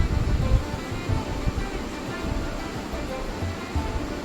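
About one and a half cups of water are poured into the simmering base of a Kerala-style tuna fish-head curry, giving a continuous rushing, splashing gush close by.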